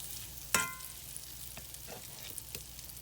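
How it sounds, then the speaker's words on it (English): Half a stick of butter dropped into a hot skillet gives a sharp sizzle burst near the start, then faint crackling and soft stirring taps fade out across the quiet remainder. "We're gonna add our half a stick of butter. Now it's not gonna take that butter long because that skillet's already so good and hot."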